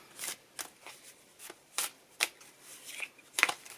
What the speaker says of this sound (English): this is my TBR cards that I got from Once Upon a Book Club. And we're going to shuffle these